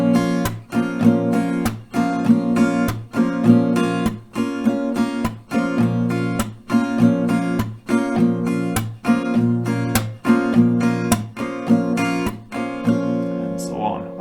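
An acoustic guitar is strummed in a steady down-up, clap, up pattern for a song, with sharp percussive clap hits recurring evenly through several loud, close rounds.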